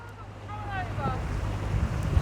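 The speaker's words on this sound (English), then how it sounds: "Bloody wind again. Blew the boat over." Strong wind buffets a microphone on an exposed hillside near water, a continuous loud rumbling roar with gusty swells and no pauses.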